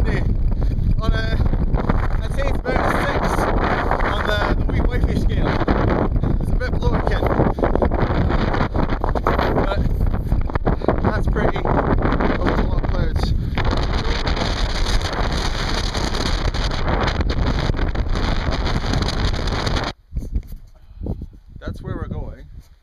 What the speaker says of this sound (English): And it's really freaking windy.